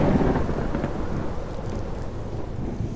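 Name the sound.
thunder during a thunderstorm with rain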